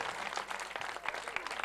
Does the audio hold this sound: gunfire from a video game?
no